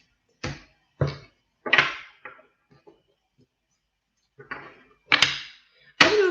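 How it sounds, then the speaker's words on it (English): A deck of tarot cards being shuffled, heard as a series of short, crisp papery slaps and riffles in irregular bursts with quiet gaps between, close and alone. "Do a little shuffle here."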